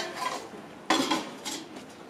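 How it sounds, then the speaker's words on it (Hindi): Pots and dishes being scrubbed and washed by hand: metal clatter and scraping in a few short bursts, one sharper clank near the middle, fairly close and moderately loud, with no talking. "उठो आ जो बर्तन मांज के जो"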